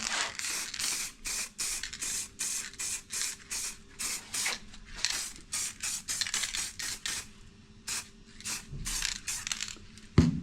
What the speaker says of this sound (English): So I'm going to give it a touch of clear lacquer.